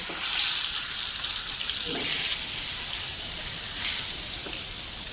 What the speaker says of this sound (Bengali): প্রথমেই আমি মাছটাকে ভেজে নিচ্ছি নুন হলুদ মাখিয়ে